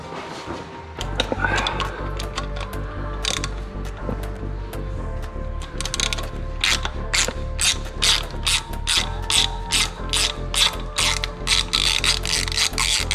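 A ratchet wrench loosening ignition coil screws on a Dacia Sandero 1.4 MPI engine, close and loud, with rapid clicking bursts that grow more regular and insistent in the second half.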